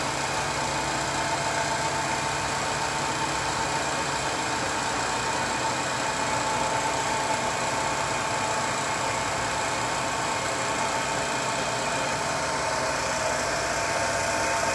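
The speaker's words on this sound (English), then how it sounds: "This is the mist cooler. Basically it shoots out a very, very fine mist of coolant onto the spindle to keep it cool." A mist cooler sprays a very fine coolant mist onto a milling machine spindle while turbine support frame parts are machined. A steady, even hiss runs over a constant motor drone throughout.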